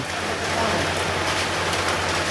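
Steady, dense rain patters loudly and evenly, a continuous hiss of drops striking a surface at close range with no pauses.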